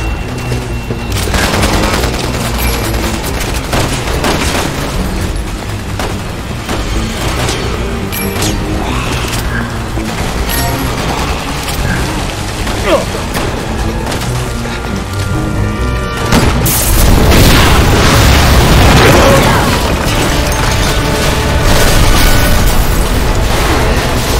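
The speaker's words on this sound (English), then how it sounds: "Someone shoot the gas! We can blow these things to kingdom come!" Gunfire and a gas explosion in the Resident Evil 6 video game: rapid shots crackle throughout, then a loud booming blast rolls out and lingers as rumbling debris.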